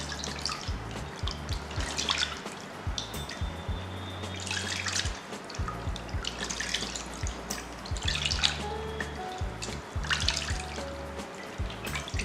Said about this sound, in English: you wash it off with warm water